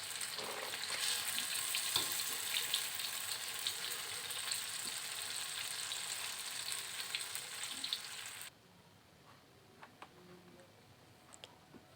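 Tofu sizzles steadily in hot frying oil with a dense, crackling hiss, which cuts out abruptly as the pieces are lifted from the pan, leaving a few faint clicks and taps.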